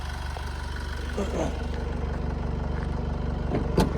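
A 2010 Honda CR-V 2.2 diesel with automatic transmission idles quietly and evenly, a low steady hum heard up close with a faint rhythmic clatter and some background noise.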